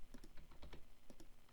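Quiet, rapid clicking of computer keyboard keys while typing into an application, a dense irregular patter of keystrokes heard close and faint without any talk.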